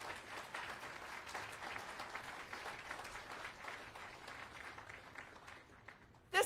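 Applause from an audience at the opening of a new Veterans Affairs outpatient clinic in Massachusetts, honouring Congressman McGovern; steady, moderately distant clapping sustained throughout before a sharp louder burst at the very end.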